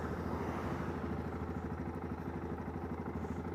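A Yamaha Tenere motorcycle engine runs with a steady, throbbing mid-pitched drone and a fast rhythmic pulse, fairly quiet and even throughout with no voices.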